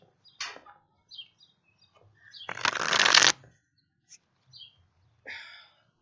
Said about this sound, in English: I'm going to see how Ripple shuffles real quick